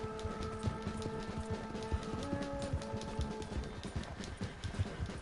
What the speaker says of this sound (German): Wilde Pferd